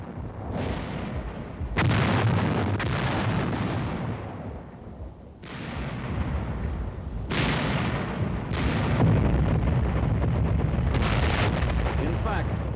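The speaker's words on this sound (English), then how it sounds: "Armies couldn't maneuver without exposing themselves to withering artillery fire." Artillery fire thunders in a dense, continuous barrage, with heavy booms landing roughly every one to three seconds over a constant rumbling roar.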